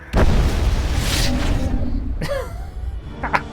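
Explosion in the video game Mass Effect Legendary: a loud, sustained booming roar that fills most of the stretch, followed by fainter rumbling debris and a brief burst near the end.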